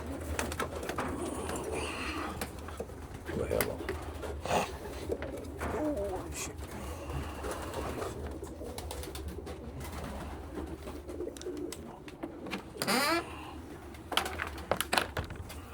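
Racing pigeons coo softly and repeatedly inside a young-bird loft, with rustling and a few scattered calls over a low background rumble.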